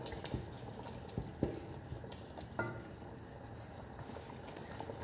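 A spoon mashes and stirs cooking dal in a pan over high flame, giving faint scraping taps and soft knocks at irregular intervals over a quiet bubbling simmer.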